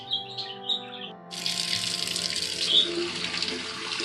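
Tap water runs from a faucet to rinse sprouting bird seeds in a sink, starting with a sudden steady gush after soft chirping birds, continuing loud and close.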